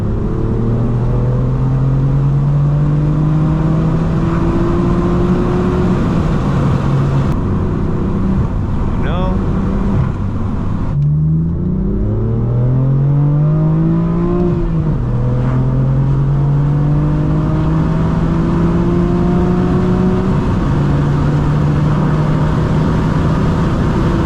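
A BMW M4 F82 with a manual gearbox and loud exhaust is driven fast, its engine droning and rising through revs with gear-shift dips, heard steadily from inside the car.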